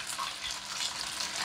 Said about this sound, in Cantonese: 煎到焦焦香香，咁最主要咧係要煎香佢嘅時間咧